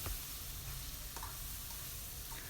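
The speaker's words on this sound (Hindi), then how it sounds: "अब सारे मसाले डाल के इनकी अच्छे से भुनाई कर लेंगे।" Chicken and ground spices, including black pepper and turmeric, frying in a pan give a steady, fairly quiet sizzle with a few soft stirring scrapes, heard alone without any voices.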